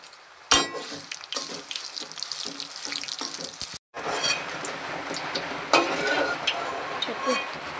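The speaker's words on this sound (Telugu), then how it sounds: "ఎండుమిరపకాయలు అయితే గోలినాయి" Dried red chillies frying in oil for gongura pachadi in a home kitchen, a steady crackling sizzle with a brief dropout midway and occasional utensil clinks and scrapes.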